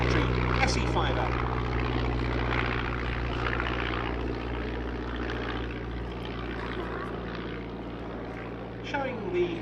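Steady droning engine of an S.E.5a biplane in flight at a Shuttleworth airshow, a continuous propeller hum from a distance, with a voice talking faintly alongside.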